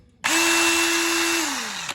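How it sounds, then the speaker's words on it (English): Handheld power drill used on a Ford Cortina steel rear end panel, spinning up hard with a steady high whine for nearly two seconds, then slowing slightly before cutting off, loud and close with no talk. "Great drill, really powerful."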